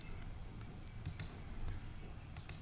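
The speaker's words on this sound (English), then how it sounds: "You can right click and use the set default." A computer mouse clicks quietly a few times at a desk: light, sparse plastic taps spread out irregularly over a low, faint background hum, with no talking.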